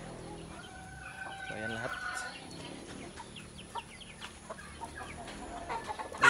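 Super brown red gamefowl broodcocks and roosters cluck and call faintly around a breeder's farm, with scattered short bird calls and a person speaking briefly over them.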